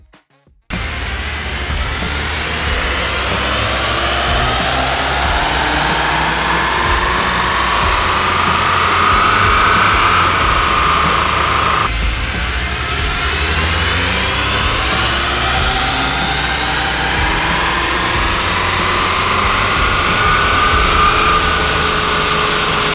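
A VW Mk8 GTI running an APR Plus Stage 1 tune on E18 fuel blend roars on a dyno through two long full-throttle pulls, revs climbing steadily, loud and close with no talking.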